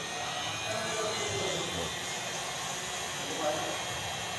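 A heat gun on its low setting warming the end of a PVC pipe, producing a steady, close airy hiss and fan roar that runs the whole time.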